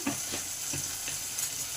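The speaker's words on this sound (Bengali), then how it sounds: "এবারে ডিমগুলোকে ভেজে নেব" Eggs frying in a kadai with turmeric and salt, a soft steady sizzle with a few light stirring scrapes, fairly quiet and close, no speech.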